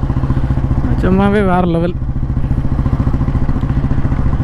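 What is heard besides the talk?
1957 Royal Enfield Bullet G2 motorcycle engine running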